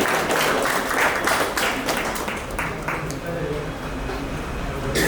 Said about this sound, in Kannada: ಹೃದಯಪೂರ್ವಕ ಚಪ್ಪಾಳೆಯೊಂದಿಗೆ ಪ್ರತಿಫಲವನ್ನು ಗೌರವಿಸುತ್ತೇವೆ